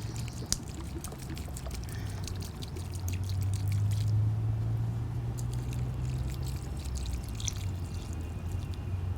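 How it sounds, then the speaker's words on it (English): A liter of mustard solution is poured onto soil for earthworm extraction, giving a steady close pour and trickle that swells in the middle and then eases off, with no talking. "Then I pour 1 liter of half of this on the soil first."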